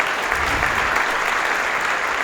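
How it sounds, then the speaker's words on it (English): A gala audience claps warmly for a client's mother and teacher, giving a dense, even round of applause that holds steady throughout. "give them a round of applause"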